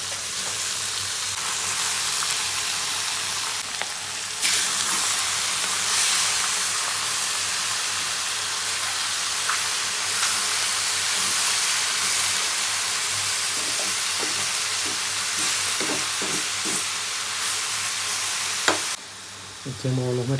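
Pork fries in a pan with jute leaves, giving a loud, steady sizzle and hiss with occasional stirring scrapes that runs throughout.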